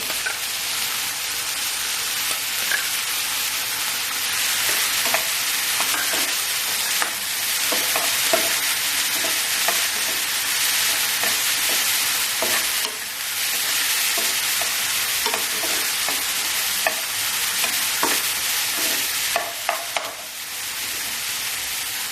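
Moong dal sautéed in a pan for a wild-vegetable dish, a loud continuous sizzle and frying hiss with frequent spatula scrapes and taps throughout, close and without talk.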